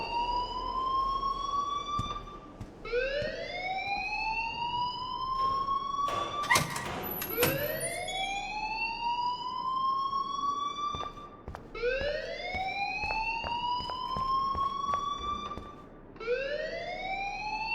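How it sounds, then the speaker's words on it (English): Loud school alarm blaring in Life is Strange, a rising electronic wail that sweeps upward and repeats every few seconds, steady and close, with a few clattering knocks partway through. "please turn off that alarm since that's your job"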